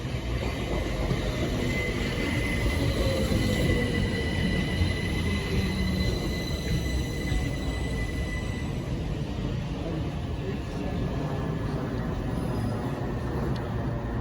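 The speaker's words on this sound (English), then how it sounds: "Arriving now is the 1340 Southern service to West Croydon." A Southern Class 377 electric multiple unit, number 377406, pulls into Battersea Park station on a service to West Croydon, its steady rumble and rail noise holding loud and close for the whole stretch.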